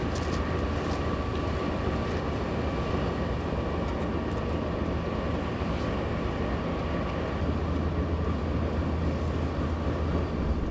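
A loud, constant engine drone with a deep rumble and steady hum fills the space, like standing close to a running DX locomotive.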